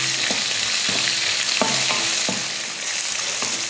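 Chopped onion and ginger sauté in an oiled pan with a steady close-up sizzle, punctuated by regular spatula strokes roughly every half second, with no voices.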